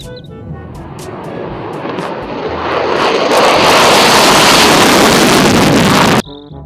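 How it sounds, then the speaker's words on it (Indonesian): A toy fighter jet gives off a loud, steady roaring aircraft engine whoosh that swells and holds for about six seconds, then cuts off abruptly. "Pesawat jet tempur."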